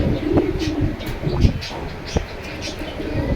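Large domestic pigeons kept for sale coo softly a few times, close by, over a low background rumble with no speech.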